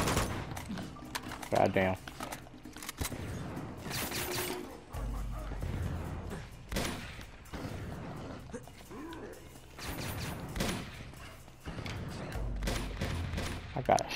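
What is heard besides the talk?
enemy gunfire in the video game Uncharted 2: Among Thieves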